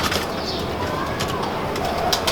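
Double pigeons coo softly against a busy background of rustling and light flapping, with a few sharp clicks scattered throughout.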